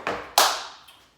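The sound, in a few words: hand clap in a body percussion routine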